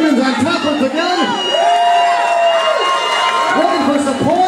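A big crowd at an independent wrestling show cheers and shouts in support of a wrestler, a loud continuous roar with whoops rising and falling throughout.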